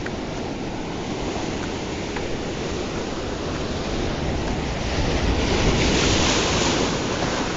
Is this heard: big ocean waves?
yes